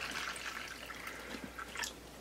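Water is added to the substrate of a snake hatchling enclosure in a rack setup, giving soft close dripping and trickling splashes that run steadily for a couple of seconds with no talk.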